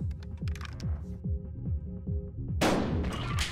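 A shotgun blast in the Buckshot Roulette video game lands loud and sudden as a broad burst after a run of rhythmic mechanical clicks and thuds, ringing on to the end.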